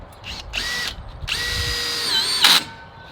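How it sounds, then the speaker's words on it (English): A power drill whines steadily in several bursts, pitch shifting as it bites through the top rail of a composite deck bar, with a sharp louder grind near the end. "So I drill through the top rail first."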